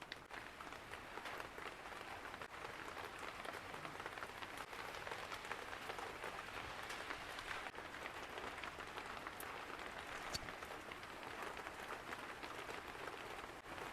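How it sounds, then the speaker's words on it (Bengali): Heavy rain pouring down outdoors under dark clouds during home cooking, a dense, even hiss of drops on surfaces that holds steady and unbroken, fairly faint overall with no talking. "বৃষ্টি জোরে পড়লো"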